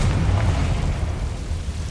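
Confringo fire spell blast in Hogwarts Legacy, a loud, sustained rumbling explosion with heavy low-end roar and crackling debris that stays steady without fading.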